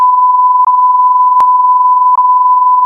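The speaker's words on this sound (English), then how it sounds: "I'm going to put a great big beep in it" Loud, steady censor beep tone running continuously over spoken words, with a few brief clicks and dips along its length.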